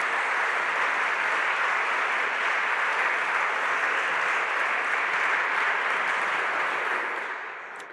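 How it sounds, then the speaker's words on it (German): Sustained, dense applause from a large audience at a Senate reception in Hamburg City Hall, loud and even throughout before tapering off at the very end. "Applaus an unerwarteter Stelle"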